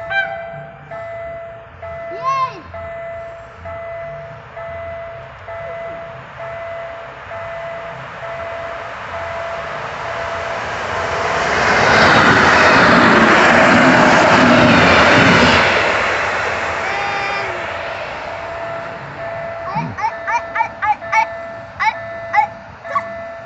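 A delayed train rolls through a railway level crossing at Żabieniec, its rumble building from faint to a loud, broad roar over several seconds then fading, with crossing bell pings and people talking before and after.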